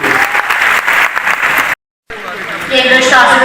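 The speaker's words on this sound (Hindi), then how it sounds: "एक बार जोरदार तालियों से अभिनंदन कीजिए" An audience applauds loudly to welcome the chief guest at a lamp-lighting ceremony, dense clapping that breaks off abruptly for a moment before resuming.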